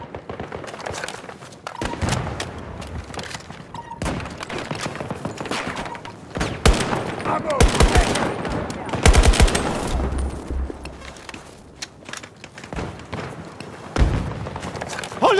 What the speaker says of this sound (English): Они стреляют! По мне стреляют!